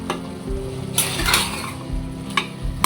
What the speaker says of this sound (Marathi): भरपूर सारा लसूण टाका आणि छान त्याला मिक्स करून घ्या